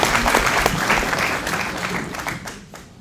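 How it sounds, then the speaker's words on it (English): A conference crowd at an opening ceremony of a Pan-African dialogue on building socialism applauds in a loud, close burst of many clapping hands that gradually thins and fades over a few seconds. "we should clap hands for this group that is here today"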